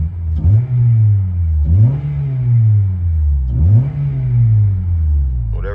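A 2006 Acura TSX with a Vibrant muffler exhaust revs three times from inside the cabin, each rise a loud throaty climb that settles back to idle, with no talking.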